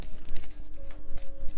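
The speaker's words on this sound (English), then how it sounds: "While I was shuffling" A deck of tarot cards is shuffled close up in quick, rhythmic riffling bursts, with a faint steady hum running underneath.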